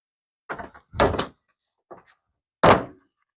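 Plastic trim pins on a car's back door popping loose as the trim panel is pried off, four short sharp clicks and thunks, close and loud, with silence between them.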